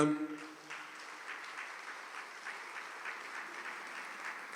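A seated audience at a talk by a Catholic priest gives a faint, distant round of applause, a soft, steady patter of hands that continues quietly without breaks.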